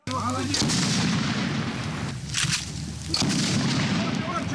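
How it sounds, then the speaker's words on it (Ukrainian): Bursts of loud, rapid gunfire from a machine gun and automatic rifles rattle close by almost without pause, a dense stream of blank shots echoing harshly. "стріляють холостими з кулемета й автоматів"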